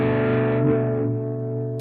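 Electric guitar strumming a minor 7th chord through a vibe pedal with overdrive, one sustained distorted chord with a gentle wavering, pulsing sweep, ringing steadily and close with no voices.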